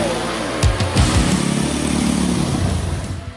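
Mini Jeep fitted with tank treads drives along with a steady, revving small engine, a close mechanical motor drone that surges briefly near the start, with no talking over it.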